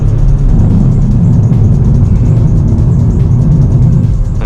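A VW Mk7.5 Golf GTI with a DSG gearbox driving along a winding road, heard from inside the cabin as a loud, steady low engine drone with road rumble and no gear changes standing out.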